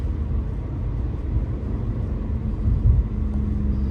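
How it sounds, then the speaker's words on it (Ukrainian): A Citroën convertible with a canvas soft top accelerates past 50 km/h, its steady low engine and road rumble droning throughout with a brief louder swell near the end. "Що ми зараз 50 їдемо і він ще ускоряється."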